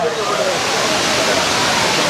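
Courtallam's main waterfall pours down at night in a loud, steady roaring rush of water that drowns out everything else.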